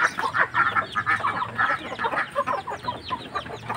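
Busy clucking and squawking from Aseel Mianwali and Burmese chickens on a farm in Cianjur, West Java, Indonesia, with a rooster among them, continuous and fairly close, with no talking.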